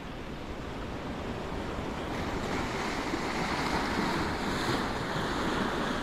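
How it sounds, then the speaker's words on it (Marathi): Rough surf pounds a Konkan beach at Redi near Vengurla, a dense, continuous roar of breaking waves mixed with gusting wind, loud and steady throughout with no voices. "एक खवळतं समुद्र"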